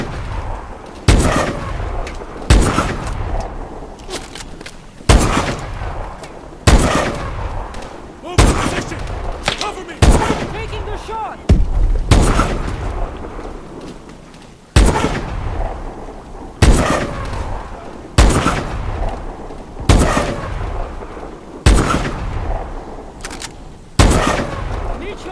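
Gunfire in the video game Call of Duty: Advanced Warfare, loud repeated bursts of automatic weapons and heavy booming shots in a steady rhythm, with shouted voices between volleys.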